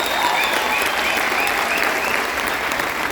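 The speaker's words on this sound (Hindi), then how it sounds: "भैया ताली मत बजाओ" An audience at a direct-selling business seminar claps continuously, with loud, dense applause from a crowd filling the room and no break in the sound.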